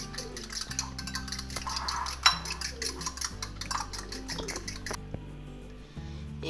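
Egg mixture for a bread omelette, seasoned with salt, is stirred in a bowl, giving a steady run of light clinks and scraping taps that continue for several seconds with no talk over them.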